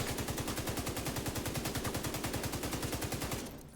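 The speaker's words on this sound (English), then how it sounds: "let me shoot them in the head" Rapid automatic gunfire in The Division 2, a steady stream of evenly spaced shots aimed at an enemy's head with a Pestilence build, loud and close, running without a break until it cuts off near the end.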